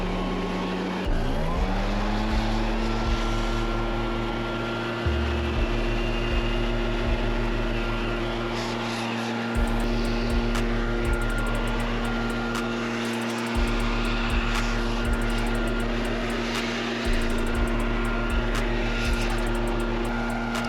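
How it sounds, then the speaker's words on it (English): A big backpack leaf blower drying off a freshly washed Infiniti car, its engine roaring steadily and close with repeated surges as the throttle is revved, with faint rattling clicks layered over the drone. "This is a big blower. It's a backpack blower."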